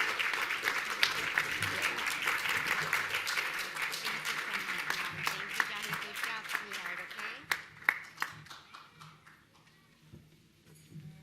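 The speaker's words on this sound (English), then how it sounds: "Let's give another round of applause for our Triangle Award winners tonight." An audience at an awards ceremony claps for the winners, a dense wash of applause that slowly thins out into scattered individual claps. A voice speaks faintly underneath.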